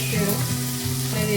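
Ginger is dropped into hot oil with onions for a parwal curry, giving a steady, close sizzle and frying hiss that holds throughout.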